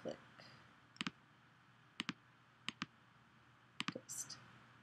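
Several crisp computer mouse clicks in quick pairs, close and quiet, spread across a few seconds with a low room hum behind them.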